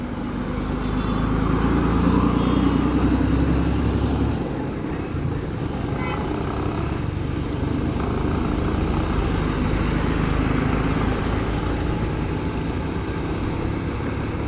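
Bajaj Pulsar 150 motorcycle on a weekend ride, a loud, steady engine drone mixed with wind rush from a helmet-mounted camera, continuous and close throughout.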